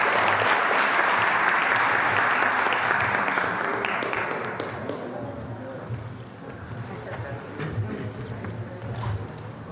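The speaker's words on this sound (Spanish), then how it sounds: "Les damos un aplauso y una foto," Crowd applause at a morning press conference held by Mexico's president, dense and steady for about four seconds, then thinning into scattered clapping with murmuring voices and movement through the rest.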